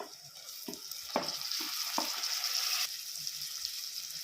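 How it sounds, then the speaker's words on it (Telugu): Tomato pieces fry in a pan for fish curry and are stirred. A bright, loud sizzle runs throughout, broken by a few sharp scraping strokes of the spoon near the start. "వీటిని బాగా కలుపుకొని టమాటా ముక్కలు మంచి మెత్తబడే వరకు"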